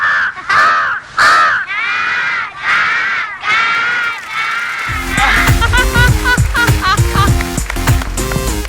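A crow gives a run of loud, repeated harsh caws close by in a comedy TV scene, then music swells in and carries on under the last calls.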